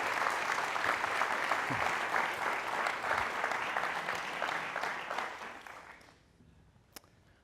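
An audience claps for a speaker being welcomed onstage at a university centennial homecoming talk event. The steady, dense applause lasts about six seconds, then dies away into near silence with one last clap.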